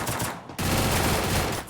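Rapid automatic gunfire in the Free Fire battle royale game, two loud close bursts of shots separated by a brief pause, with no talking.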